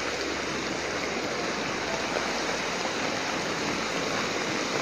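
Heavy rain falling steadily in a dense, unbroken hiss, loud and close, with no other sounds standing out.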